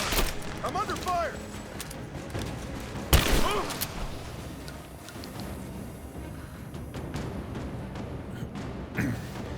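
Gunfire in the video game Rise of the Tomb Raider, with a loud burst of shots near the three-second mark and scattered softer shots elsewhere, mixed with game sounds and talk.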